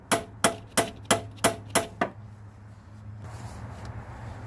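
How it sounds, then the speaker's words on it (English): A hammer gives seven quick, evenly spaced sharp taps to spread open a transmission mount on a 2006 Ford Escape, close and loud over a low hum, then a steady hiss. "I just use the hammer and just give it a few quick taps."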